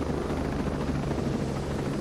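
A helicopter in the video game Ghost Recon Breakpoint gives a loud, close, continuous rotor thump and engine roar that holds steady throughout.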